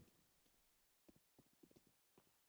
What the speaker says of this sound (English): Here's footsteps coming from spawn.